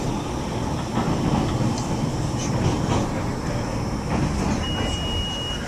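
A heritage passenger train rolls steadily toward the Tower 12 rail junction on a snowy excursion run, with a continuous loud rumble, faint wheel clatter and a brief high squeal near the end.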